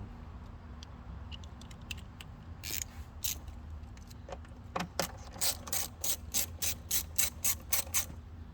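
A ratchet with an 8mm socket works loose the throttle clamps on a GM 6.2 engine intake: scattered single clicks, then a fast, even run of loud close ratcheting clicks toward the end, with no talk.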